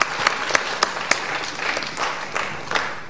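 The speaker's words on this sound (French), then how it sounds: "On acclame pour le chef Nyanga." An audience bursts into sustained applause acclaiming Chief Nyanga at a commemorative ceremony, dense clapping from many hands with a few sharper individual claps standing out, steady and fairly loud throughout.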